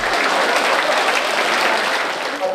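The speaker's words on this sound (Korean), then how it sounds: "교도들은 자리에서 일어나 힘찬 박수로 경산 종법사님을 환영했습니다" A standing congregation at a Won Buddhist dharma service in Chuncheon bursts into loud, dense applause to welcome the head dharma master, a close, continuous wall of clapping.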